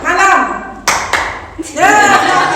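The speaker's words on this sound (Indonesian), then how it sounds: "Tadi sudah ada yang tepuk" A few sharp hand claps from a classroom of children, separate quick slaps set between stretches of young voices talking.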